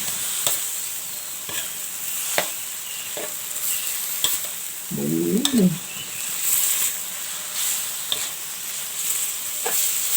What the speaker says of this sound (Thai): ผัดเนื้อ ผัดไป ผัดเนื้อใส่ใบยีหร่า